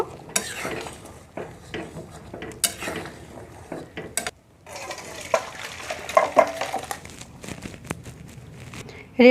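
Spoon stirring through simmering dal with a big katla fish head as cumin and black pepper powder go in, giving close, uneven scraping and clinking against the pot with a brief pause midway, no talking.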